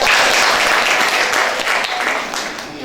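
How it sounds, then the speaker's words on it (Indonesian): Clapping from a classroom audience for a student group that has just finished presenting, dense and steady for the whole stretch and slowly tapering, with no voices over it. "mari kita beri aplaus kepada kelompok."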